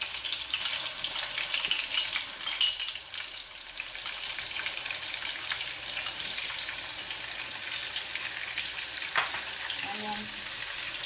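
Garlic frying with ginger in hot oil for a Guyanese-style chicken biryani, giving a dense, continuous close sizzle with scattered crackles and a brief stir partway through.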